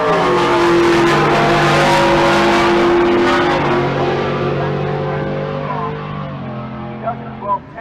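C6 Corvette drag racing an F-150 at Pueblo Motorsports Park, a loud engine roar revving hard and then fading as the car pulls away, with an announcer talking over it.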